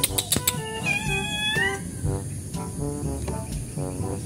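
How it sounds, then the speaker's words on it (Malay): A pregnant stray cat meows several times in short, faint, uneven calls, with clatter and background noise between them outdoors near a house. "Sekejap, kucing siapa ni guys?"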